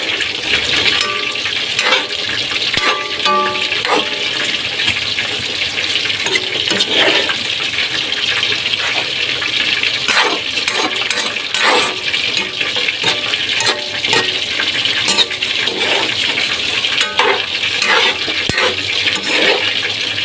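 Food being stirred as it fries in a pan with a pinch of vetsin seasoning: a loud, steady, hissing sizzle runs throughout, broken by scraping stirring strokes, with no talking.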